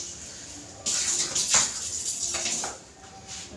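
Water is poured into a small bowl, a close, gentle splash and trickle that runs for about two seconds and then tapers off, with a quiet background before and after.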